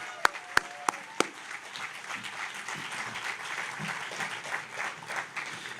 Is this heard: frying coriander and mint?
no